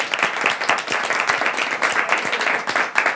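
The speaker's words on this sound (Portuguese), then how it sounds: "Vamos aplaudir ao Senhor mais uma vez." A congregation claps together in praise during a church service, a steady, dense round of applause with sharp hand claps throughout and no talking.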